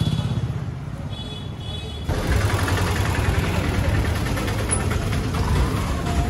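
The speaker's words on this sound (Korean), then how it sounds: "이 오토바이는 스쿠터는 되게 오래된 옛날 기종인데 클러치가 있습니다." Engine of an old scooter with a manual clutch and gear shift, running close by at a steady idle-like putter that grows louder and rougher after a couple of seconds.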